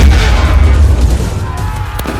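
Artillery guns firing during a large-scale offensive in a Total War strategy game, heard as loud, dense booming with low rumbling blasts that run continuously throughout, no voices.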